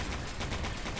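Pistol gunfire in the video game E.Y.E: Divine Cybermancy, dense loud repeated shots in a rapid, continuous volley.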